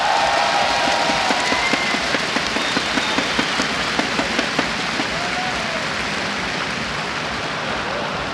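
A large arena crowd at a CS:GO esports grand final claps and cheers in a dense, steady wash of applause, with rhythmic clapping beats running through the noise.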